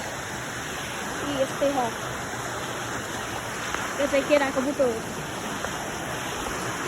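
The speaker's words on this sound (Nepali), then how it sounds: "यी खोला हेर्नु गाइस" A steady hiss of river water rushes beside a hiking trail near the Manki Khola bridge, a constant nearby flow under someone speaking in bursts.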